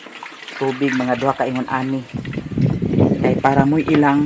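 About two measures of water poured in while cooking, giving a short, fairly loud rush of liquid between stretches of close speech.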